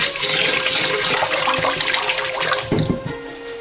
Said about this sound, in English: Before we cook the rice, we have to wash the rice 2 times. Use your hand to wash rice like this.